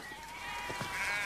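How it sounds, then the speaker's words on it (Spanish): A sheep bleats in a few short wavering calls, fairly close and moderately loud, over a steady background hum with no talking. "¿Qué le pasa a la oveja?"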